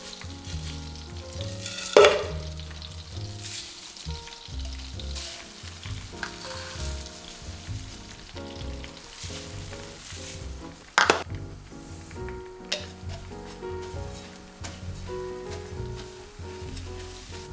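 Food fries in a pan on medium heat while being tossed, a steady crackling sizzle with scraping stirs and occasional sharp clanks of utensil against pan, close and continuous.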